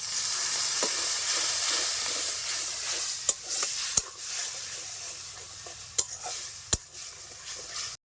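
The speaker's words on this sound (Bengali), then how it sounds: "একটু জল দিয়ে মশলাটাকে ভালো করে কষিয়ে নেব" Kashmiri red chilli powder, salt and a splash of water fry into a spice paste in a pan for a bitter gourd curry, giving a steady close sizzle with a few sharp scraping clicks from the spoon.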